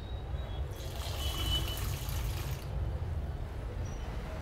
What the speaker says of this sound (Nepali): अब यो मैदामा पानी हालौँ थोरै,